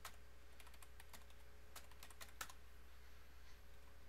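Keys on a computer keyboard being typed in quick, soft, close bursts over a low steady hum, pausing briefly before a few last taps, with no talking.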